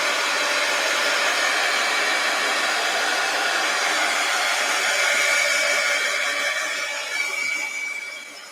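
A hair dryer blows steadily and loudly over an art journal page, a continuous close whoosh that holds for the whole stretch before easing slightly at the very end.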